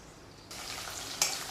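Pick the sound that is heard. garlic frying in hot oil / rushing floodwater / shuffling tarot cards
garlic frying in hot oil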